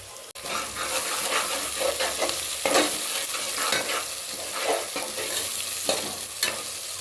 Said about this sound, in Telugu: ఆనియన్స్ త్వరగా ఫ్రై కావాలి అంటే కొంచెం సాల్ట్ వేసుకోవాలి. ఇందులో కొన్ని పచ్చిమిర్చి వేసుకుంటున్నాను.